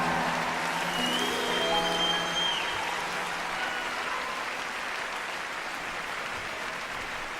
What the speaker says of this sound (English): Give yourself a round of applause there, I think.